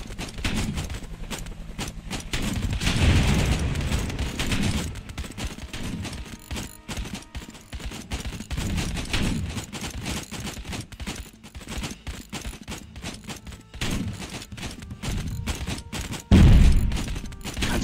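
Gunfire in the VR shooter Out of Ammo: repeated sharp rifle and machine-gun bursts crackle throughout, some bursts dense and rapid, with a heavy boom near the end, loud and close.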